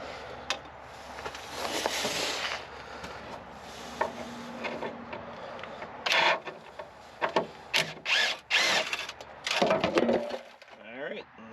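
Bolts come off a shield on a 2005 GMC Envoy during front-end work: close scraping and rubbing of a wrench on metal, then a series of short clanks and ratcheting rasps near the end, with someone talking in between.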